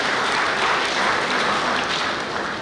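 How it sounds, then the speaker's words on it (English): A lecture audience applauds the speakers in a dense, steady patter of clapping that carries on for a few seconds before easing slightly. "the two last speakers deserve another round of applause"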